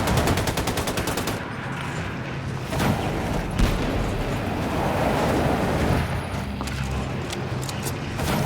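Video game gunfire rattles in rapid machine-gun bursts and scattered shots, loud and continuous over a noisy ambient background.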